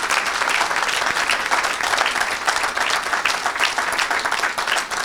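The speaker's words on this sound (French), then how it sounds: "Acclamez pour Jésus-Christ." An audience at an evangelistic worship gathering bursts into loud, sustained applause. Dense clapping fills the whole stretch with no pause.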